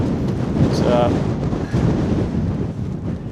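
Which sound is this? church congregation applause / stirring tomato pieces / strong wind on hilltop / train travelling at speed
strong wind on hilltop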